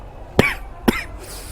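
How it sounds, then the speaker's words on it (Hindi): Two sharp, close coughs about half a second apart, each a quick harsh burst with a brief throaty tail, then quiet. "जो अभी थोड़ा खांसी आ गई थी"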